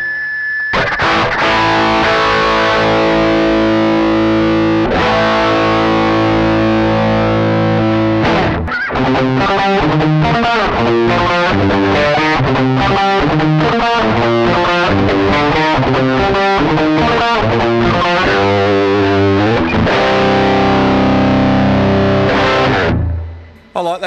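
Electric guitar through a Joyo overdrive pedal with the voice control turned all the way up, giving a loud, gritty driven tone: sustained chords, then a fast rhythmic riff of chugging notes, ending on a ringing chord, with no talking.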